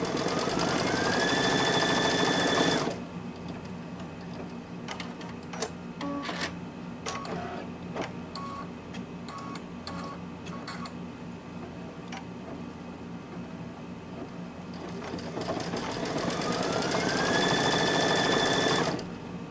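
An embroidery sewing machine stitches a satin-stitch outline around the inner ear of a fabric bunny appliqué, a rapid mechanical needle patter running steadily and close in the middle, with a whirring motor tone at the start and end.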